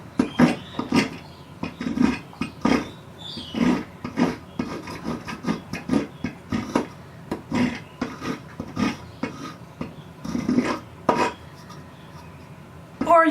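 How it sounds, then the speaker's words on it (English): Steady rasping strokes of a file worked back and forth across a natural wooden branch perch, close and fairly loud, in a repeated rhythm of short scrapes with brief pauses. "you can just file away"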